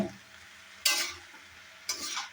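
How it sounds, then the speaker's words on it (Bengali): Cumin and coriander powder are stirred in a hot frying pan, soft background sizzle broken by two sharp scraping sweeps of the spoon, close and quiet with no talk. "দিয়ে দিলাম পরিমাণ মতো জিরা ধনিয়ার গুঁড়া, ভালো করে নেড়ে ছেড়ে একটা সময় ঢাকা দিব"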